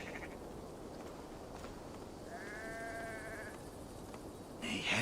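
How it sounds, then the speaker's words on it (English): A sheep in Assassin's Creed Valhalla gives one wavering, mid-pitched bleat lasting about a second, heard over a steady ambient game background with no talking. "Whoa, what has the sheep eaten?"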